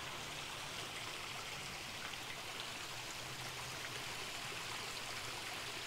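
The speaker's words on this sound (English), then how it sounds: "There's so many different levels of water, from the soft splashing water of the spillway bowls to the deeper sound of the water hitting" Backyard garden waterfall feature in Stuart, Florida, with water spilling from spillway bowls: a steady, full rush of splashing and falling water, close and continuous, with no voices.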